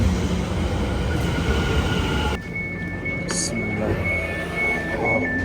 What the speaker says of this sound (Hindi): ये हमारे वाली ट्रेन आ गई है।